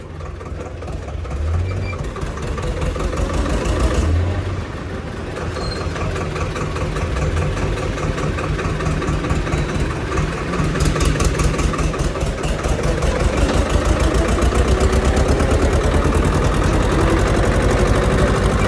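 A tractor engine runs close and loud on the way to a garage, a steady heavy chugging drone that surges slightly as it moves along. No voices are heard over it.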